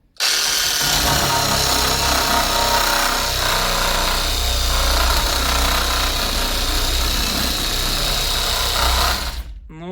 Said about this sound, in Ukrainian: Ну що, пробуємо, як буде цеглу різати.